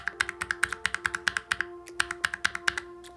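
Rapid typing on a NuPhy Air75 mechanical keyboard with red switches, a close, crisp run of light keystroke clacks in a steady, slightly uneven rhythm, with no one speaking.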